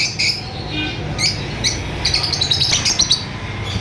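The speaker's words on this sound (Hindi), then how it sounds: "ये फिशर और पीच फेस लवर के अडल्ट पेयर्स मौजूद हैं" Fischer's and peach-faced lovebirds chirp at a busy Sunday bird market, with bright high tweets and squawks scattered over steady crowd murmur and traffic rumble, growing denser toward the end.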